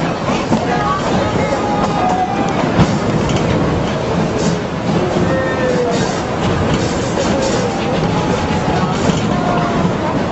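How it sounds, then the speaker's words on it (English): Narrow gauge railroad train passes close by with a continuous heavy rumble and rhythmic clickety-clack of wheels, faint squealing tones drifting over the steady roar for about ten seconds. "There's the train!"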